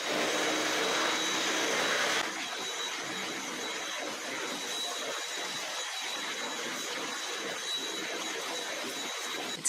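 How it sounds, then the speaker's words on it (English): A vacuum cleaner runs continuously, cleaning the floors with a loud, steady whining roar. The motor pitch shifts slightly after a couple of seconds as it moves, and there is no talk. "So I'm gonna vacuum and then mop quickly."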